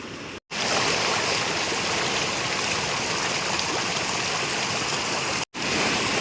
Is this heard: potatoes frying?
no